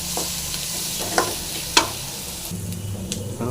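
Onions and spices for a moringa leaf stir-fry sizzle steadily in a pan while being stirred, with a few close scraping strokes of the spoon over the constant frying hiss.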